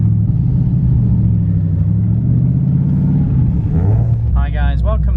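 A truck engine drones steadily while driving, its gears stiff and hard to shift, with a deep constant rumble up close and voices talking over it near the end.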